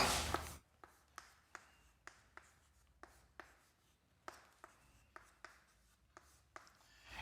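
A teacher writes a maths formula for a class-11 lesson on triangles, making a series of quiet, sharp pen or chalk taps about every half second, with an initial rustle and no speech.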